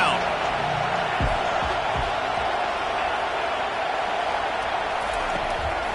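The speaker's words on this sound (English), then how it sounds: "Decibels rising as the crowd gets behind this defense on third down." A stadium crowd at an NCAA football game roars steadily during a third-down defensive stand, a dense wall of noise with scattered whoops, while a commentator talks over it.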